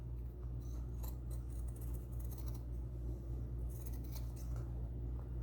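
Scissors cutting sun bonnet fabric produce faint, quick snips and rustles over a low, constant room hum.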